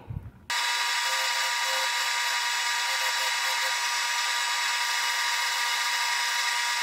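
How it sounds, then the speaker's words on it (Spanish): After a brief low thump, a loud, steady grinding whine of a sanding machine smoothing a shoe sole runs continuously. "Entonces de aquí lo vamos a la lija para lijarlo y emparejarlo."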